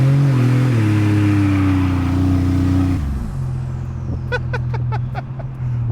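A 1987 Buick Grand National's turbocharged engine revving up under load, loud and close with a rising drone that drops off, followed by several sharp chirps and flutters as boost releases.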